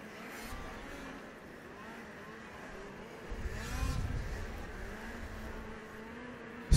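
Snowmobile engines in a youth final of the Russian snowmobile cross championship in Novy Urengoy, heard at a distance as a rising and falling whine that grows louder in the middle, with an announcer speaking over it.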